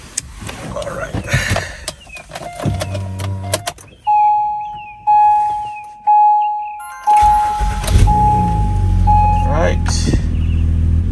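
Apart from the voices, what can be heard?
Acura MDX engine starting after spark plug replacement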